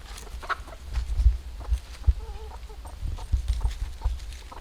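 Pet chickens approach and cluck softly nearby, with scattered clucks and a short warbling call over light footsteps and shuffling, no talking.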